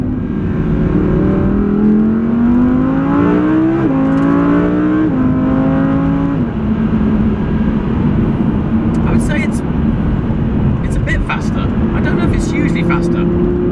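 An Audi R8 V10 Plus engine sits loud and close, revving up through several stepped gear changes before settling into a steady, high-pitched cruise on a country road, with occasional light clicks and ticks near the end.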